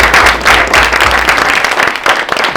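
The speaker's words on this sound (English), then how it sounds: "Let's give you a round of applause." Loud audience applause at a hackathon build event, dense steady clapping that swells at the start and holds for a couple of seconds with no talking.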